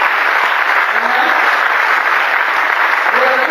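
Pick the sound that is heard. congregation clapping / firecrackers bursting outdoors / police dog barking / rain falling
congregation clapping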